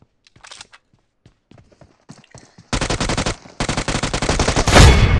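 Automatic gunfire from a PUBG Mobile match, heard as scattered faint clicks and steps before long loud sustained bursts of rapid shots, rising to a final heavy volley.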